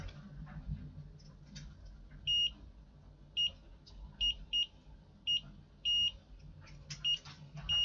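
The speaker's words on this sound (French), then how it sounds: "c'est un petit bip par intermittence" Short, high electronic beeps from a meter testing an Audi's Bose car amplifier under repair, sounding intermittently at irregular intervals over a quiet, low background hum.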